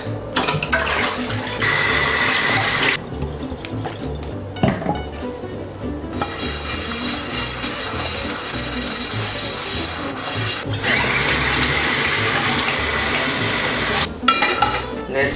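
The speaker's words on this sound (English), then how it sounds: "ये बर्तन भी मुझे ही धोने पड़ते हैं." A pan is washed under a running kitchen tap, with bursts of gushing water, scrubbing and the clink of cookware. A voice comes in briefly.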